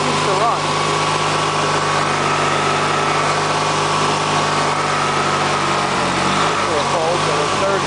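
An old MTD lawn tractor engine runs steadily up close, idling with a slight cold-start surge, loud and continuous with some talk over it.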